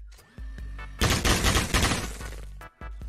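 Dense, loud gunfire from the Roblox Military Tycoon game, with a rapid fusillade of overlapping shots lasting about two seconds between short lulls of scattered single shots.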